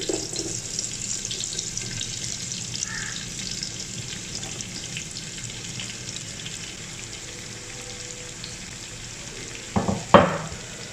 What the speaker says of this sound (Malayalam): ഉള്ളി വാടുന്നത് വരെ വെയിറ്റ് ചെയ്യുക.